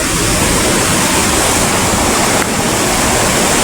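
A large flood is rushing past outdoors, a loud, continuous roar of turbulent water close by that fills the whole clip, with no voices.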